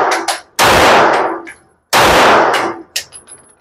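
A Canik SFT Pro pistol fires two sharp, very loud shots about 1.3 seconds apart on a 5-meter accuracy test. Each blast rings and decays, with small clinks in between.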